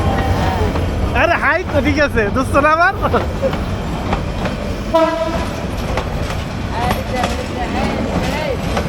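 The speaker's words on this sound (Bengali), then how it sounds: "এই যে ট্রেন চলে যাচ্ছে।" A train passes at a railway junction: a horn blares in sweeping blasts, then steady rumbling and clattering wheels fill the rest. People talk nearby throughout.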